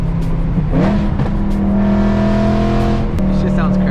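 A BMW E92 M3's V8 engine revs hard up close, its pitch climbing and falling in loud harmonic sweeps.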